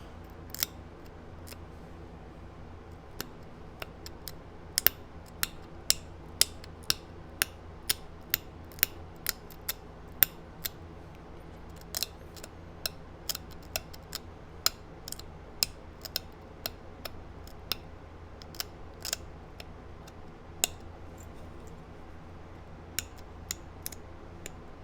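A flint point is trimmed by flintknapping, its edge struck with many small, sharp clicks and ticks spaced irregularly, faint and close over a quiet background.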